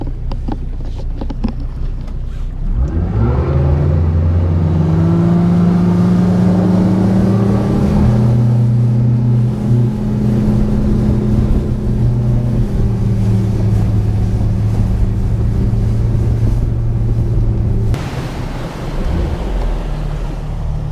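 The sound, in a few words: motorboat launching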